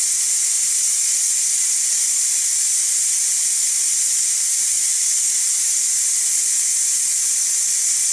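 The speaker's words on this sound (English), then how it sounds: "Now we'll go ahead and release the pressure." A Ninja Foodi Deluxe pressure cooker vents its pressure after a pot roast cook, giving a loud, steady, unbroken hiss of escaping steam that holds constant throughout.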